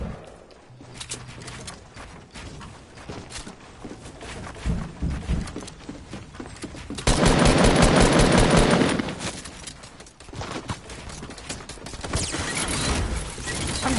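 Gunfire in a Fortnite game, with scattered shots that build into a loud, sustained machine-gun-like volley midway, then sporadic cracks and mechanical clicks resume, all without voices.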